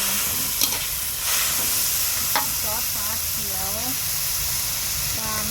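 Vegetables stir-fry in a hot pan with sauce added, a steady sizzle and hiss with occasional scrapes of a utensil, while a person talks intermittently over the cooking.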